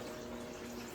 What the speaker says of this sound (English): We're going to fill the blender container